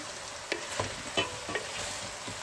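Eggplant and tomato paste for a traditional Turkish dish sizzle steadily in a pan, a broad frying hiss broken by several soft scraping stirs and clinks, with no voices.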